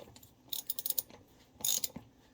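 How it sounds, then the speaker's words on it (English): A hand ratchet clicks in two quick bursts of cranking while a Cub Cadet LT42B XT1 lawn tractor wheel is being removed for a tire change, close and crisp with a pause between bursts. "you have to hold the tire with one hand and ratchet with the other"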